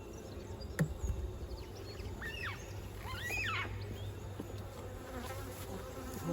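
Honeybees buzz around an opened hive during an autumn varroa check, a steady dense drone that continues for the whole stretch, with a few brief higher whining passes from individual bees close by.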